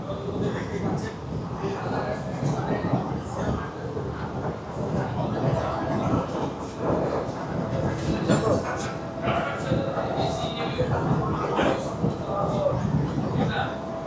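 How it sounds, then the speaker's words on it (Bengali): Sealdah–Bangaon AC local train running at about 100 km/h, a loud continuous rumble of wheels on rails with rattling carriage noise and rhythmic clicks, heard from inside, with a person talking over it. "আর এই ট্রেন ছাড়ার পরেই ট্রেন কিন্তু স্পিড নিয়ে নিয়েছে 100 কিলোমিটার প্রতি ঘন্টা।"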